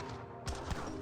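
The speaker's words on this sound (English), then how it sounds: "Villagers trying to shoot their guns as well." Gunfire crackles in an Age of Empires 3 battle as villagers and skirmishers shoot muskets. A couple of quick muffled shots rise over a faint, busy game backdrop.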